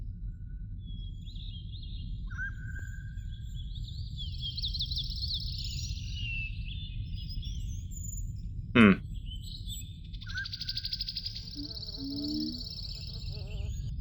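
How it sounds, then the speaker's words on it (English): Croaking frog calls in the video game Riven, short raspy bursts repeating against a quiet ambient background alongside chirping bird-like creature sounds and a sharp click partway through. "Yeah, there is a frog."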